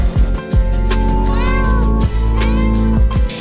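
A cat meows repeatedly, several drawn-out, wavering cries close to the listener, one after another with short gaps between them.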